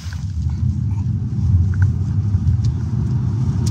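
A BYD Seal accelerating hard on the Zhuhai race track gives a loud, steady, low engine-and-road rumble that holds for the whole stretch, with no talking.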